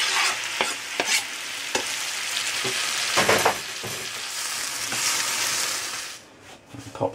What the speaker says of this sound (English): now I'll just roughly chop the tomatoes and pop them in the pan with the onions